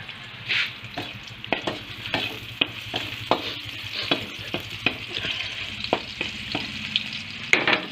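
Chayote sautéing in a pan with chicharon added, a steady sizzle broken by repeated close scraping stirs at a loose, regular rhythm.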